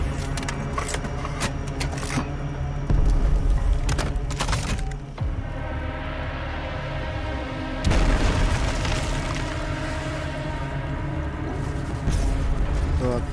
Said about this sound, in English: And of course, Sticky Bomb!